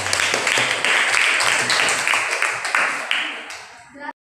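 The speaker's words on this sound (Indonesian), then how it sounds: "Aplaus buat bersama." A class audience applauds in a dense, continuous patter of clapping that fades and then cuts off abruptly, with voices mixed in underneath.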